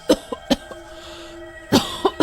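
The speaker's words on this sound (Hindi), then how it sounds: "खांसी ज्यादा ही दम खींच रही है।" A woman with a fever coughs harshly and close to the microphone, a burst of three or four dry coughs, a short pause, then another quick cluster of coughs.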